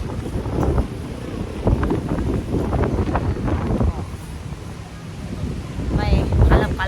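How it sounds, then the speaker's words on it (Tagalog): Strong wind at a scenic viewpoint in Malico, San Nicolas, Pangasinan buffets the microphone in heavy, gusting rumbles that rise and fall throughout, with brief voices near the end. "Oh my gosh, sobrang mahangin."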